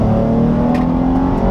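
The V6 engine of a 2013 Dodge Charger revs high with a steady loud droning hum and whir, heard from inside the car with no talking.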